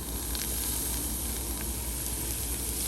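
Minced meat frying in a pan over medium heat, a steady soft sizzle and hiss heard close up with no voices.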